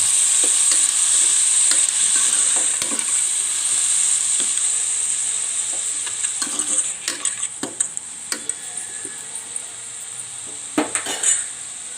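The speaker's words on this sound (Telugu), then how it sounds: "ఇది కొంచెం వేగిన తర్వాత టమాటా కూడా వేసుకొని ఇది ఒకసారి కలుపుకొని" Tomatoes frying in a pan and being stirred, a steady bright sizzle with scraping spoon strokes and clinks against the pan that grow sparser toward the end.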